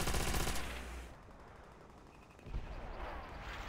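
Gunfire in Call of Duty: World at War, a loud burst of rapid shots that cuts off, a quieter lull, then another sharp shot with ringing fire after it.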